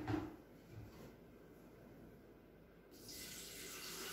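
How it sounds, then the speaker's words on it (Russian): Water from a tap runs into a Maunfeld MKF 622BG electric kettle, a faint steady hiss that grows brighter toward the end, with a light clunk at the start and no talk. "Попробуем налить воды."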